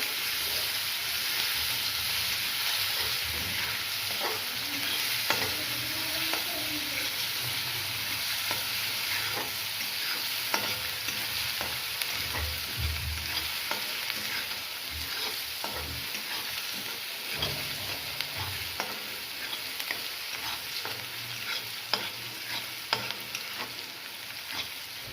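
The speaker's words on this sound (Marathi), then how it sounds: "थोडा लाल होईपर्यंत आपण त्याला परतून घेऊ कांद्याला." Chopped onion sautés in a pan for a whole masoor usal, giving a continuous, even sizzle with frequent soft scrapes of stirring, heard close and alone without talk.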